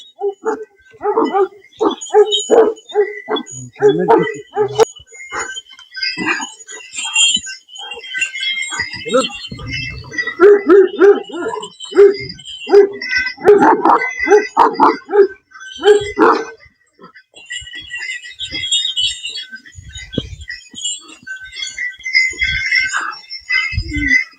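A dog barks repeatedly in bursts over a busy background of voices and street noise, fairly close and loud.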